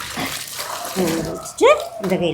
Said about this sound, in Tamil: இதில் போட்டு அலசுங்க. ரெண்டு கையும் யூஸ் பண்ணுங்க.